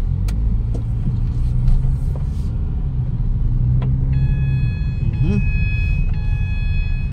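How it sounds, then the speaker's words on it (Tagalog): A Ford Fiesta, just given a top overhaul and oil change and prone to bursting radiator hoses, rumbles along village roads at low speed with a steady engine drone. Faint clicks and a repeating electronic chime sound midway. "Road test na tayo mga boss sa ating Ford Fiesta na top overhaul."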